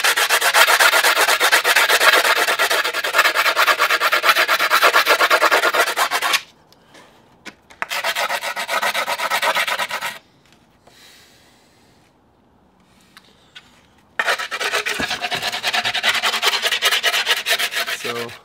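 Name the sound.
grinding down skateboard grip tape edge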